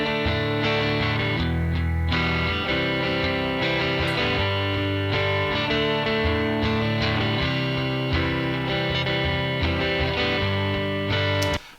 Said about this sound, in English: this is the main rhythm or the main chord progression